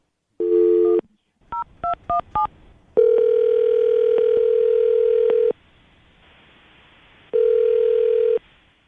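A short steady phone tone, then a quick series of keypad dialing beeps, followed by long, loud, steady ringing tones with a pause between them.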